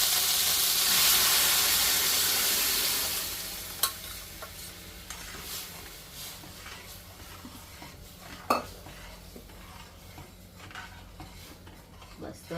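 Mung beans tumble into garlic frying in a home pan, a loud sizzle that fades after a few seconds, followed by stirring scrapes and a couple of sharp utensil knocks against the pan.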